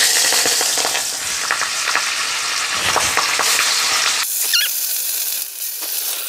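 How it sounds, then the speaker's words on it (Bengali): Rohu fish pieces frying in hot oil in a kadai give a loud, dense, close crackling sizzle that drops away sharply near the end, leaving a few faint squeaks. "এখন আমি মাছটা ভেজে নিচ্ছি।"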